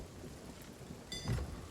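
A video game storm at sea, Sea of Thieves on Xbox One, brings a steady wash of rain under a brief low thunder rumble near the end, faint and short.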